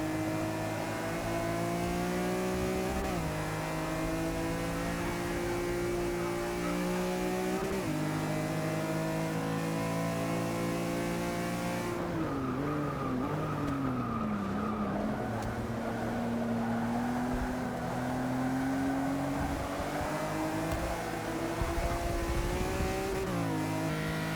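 A race car engine in the Forza 6 video game revs hard and climbs through repeated gear changes, with pitch rising and dropping. The loud, steady roar plays alone with no talk.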